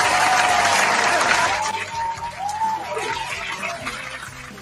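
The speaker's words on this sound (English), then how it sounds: "There's an applause." Applause from a small audience, strongest at first and then thinning and fading over a few seconds.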